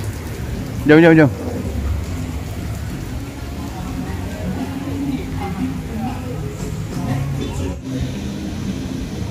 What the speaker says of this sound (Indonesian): Biarpun hujan, tetap kuredah jua.